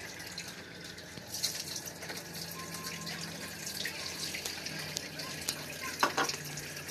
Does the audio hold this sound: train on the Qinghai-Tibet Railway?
no